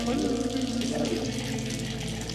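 Cold tap water runs steadily for ablution before prayer, a continuous close splashing stream that fills the whole stretch without pause, with faint background noise under it.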